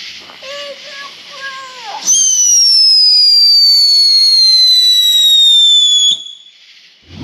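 A train whistle firework from a large fireworks store is lit, giving a few short fizzing chirps before launching into a loud, continuous descending shriek lasting about four seconds, then cutting off.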